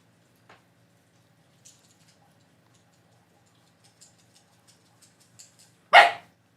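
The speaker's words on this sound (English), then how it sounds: "Why are you barking? Don't bark." A dog indoors lets out a single loud, close bark near the end, after a long quiet stretch with only faint scattered ticks and clicks.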